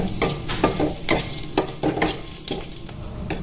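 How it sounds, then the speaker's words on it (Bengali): Dry red chillies and five-spice seeds sizzle in hot oil, a steady close crackle punctuated by repeated rhythmic scrapes of a spatula stirring the pan. "গরম হয়ে যাওয়ার পর আমি এটাতে দিচ্ছি শুকনো লঙ্কা আর পাঁচ ফোড়ন"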